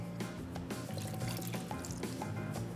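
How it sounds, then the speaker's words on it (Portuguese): Water pours steadily into bread dough ingredients in a bowl, a continuous liquid splash with small drips, close by and fairly constant in level. "Eu vou colocar toda a minha água"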